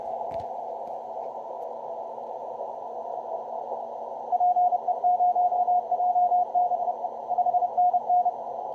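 Morse code from a DX station on amateur radio: a steady high-pitched keyed tone over hiss, with fast, evenly spaced dots and dashes in the second half.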